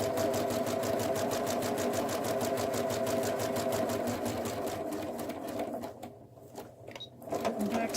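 A sewing machine back stitches on a fabric bunny gift bag, a fast, even rattle of needle strokes running continuously, then slowing and breaking into short bursts before resuming.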